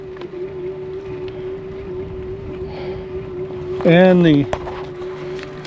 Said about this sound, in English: Now I'm using motor with my throttle to help me up this hill.